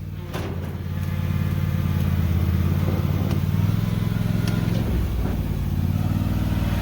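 A vehicle engine runs close by with a deep, continuous rumble that swells as more throttle is given, then eases slightly toward the end. No talking is heard.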